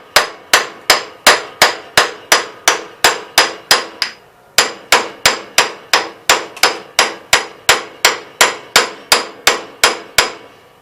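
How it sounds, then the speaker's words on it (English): Rapid, evenly spaced sharp metallic hammer blows, about two per second with one short pause, struck close by while working a puller on the PTO of a 1973 Gravely 810 tractor; no talking. "so I'm going to use a puller"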